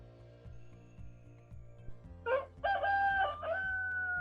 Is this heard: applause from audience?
no